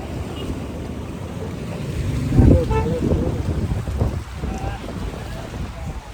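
Sea waves at Dhanushkodi wash in with a continuous surf roar under wind, with a brief voice breaking in near the middle.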